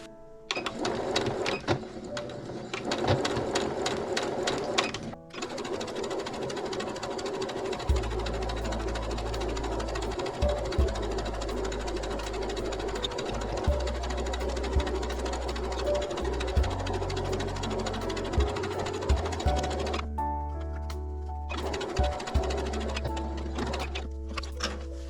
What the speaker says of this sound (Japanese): 重ならないように横の線を縫っていきます。